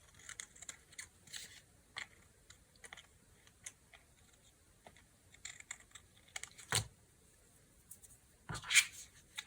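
Recycled packaging paper being trimmed with scissors: quiet, close snips and light paper rustles in irregular bursts, with a couple of louder clicks.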